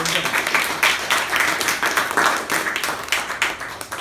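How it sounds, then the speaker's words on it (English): A room of club members at a meeting claps steadily for several seconds, a moderately close, even round of applause with no clear speech over it. "Let's give him a round of applause"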